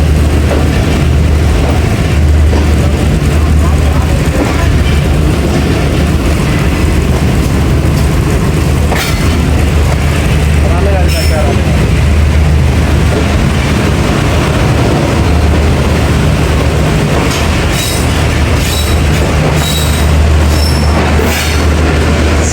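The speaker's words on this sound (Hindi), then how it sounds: "और अब हम डिपार्ट कर रहे हैं जी लाला मूसा जंक्शन से।" The Awam Express pulls out of Lala Musa Junction with a loud, continuous rumble and wheel noise heard from inside, a steady low drone, and scattered metallic squeals and clicks toward the end.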